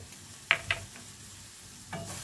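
Rice flour being stirred into a cauliflower and tomato curry in a pan, with a couple of sharp scraping taps early on, then a soft stirring rustle over a faint background sizzle.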